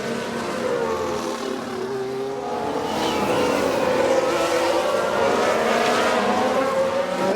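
A Ferrari Formula 1 car races in F1 Manager 22, its high engine whine rising and holding steady with other cars droning alongside, loud and continuous throughout.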